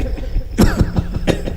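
A voice imitates a cough, sharp and popping like a small firecracker: a burst of quick, clipped hacks in close succession, loud and near.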